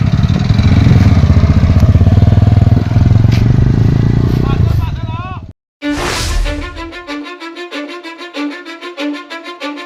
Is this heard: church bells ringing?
no